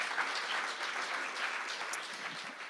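A crowd at a live music benefit concert claps for a performer. The brief burst of applause is even and full, with no talk over it.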